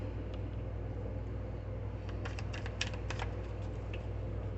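Tarot cards being shuffled by hand, soft papery riffles and taps clustered in the second half over a steady low hum, close and fairly quiet.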